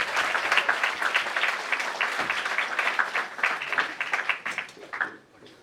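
An audience at a Republic Day celebration gives a speaker a warm welcome with dense, steady applause, many hands clapping at once. The clapping holds strong throughout and fades away at the very end.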